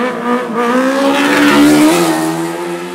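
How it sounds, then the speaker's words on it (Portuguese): A Fan 600R motorcycle engine revving hard during a wheelie, loud and near, the pitch climbing through a sustained rev then easing back, with no speech over it. "o cara empinou com a moto"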